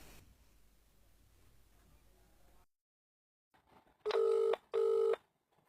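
A telephone rings twice in loud, evenly spaced electronic bursts after a quiet pause, following some low background noise.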